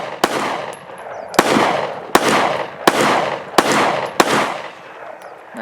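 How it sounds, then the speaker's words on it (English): Handgun shots fired outdoors in the Arizona desert, six sharp reports at roughly even intervals, each with a long rolling echo decaying across the open ground, loud and close with no talking. "we grab the good handle on the gun, unholster it, take the safety off, acquire, and fire."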